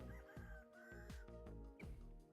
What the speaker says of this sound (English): I literally just heard a chicken.